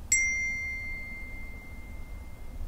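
A single bell struck once, a bright ding that rings on with a long, slowly fading sustain and no other sound around it.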